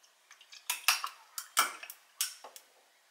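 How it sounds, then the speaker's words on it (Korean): Ice cubes drop one after another into a cup for an iced vanilla caramel mocha, a run of bright, clinking knocks in small irregular clusters, close and crisp against a quiet room. "먼저 컵에 얼음을 넣어줍니다"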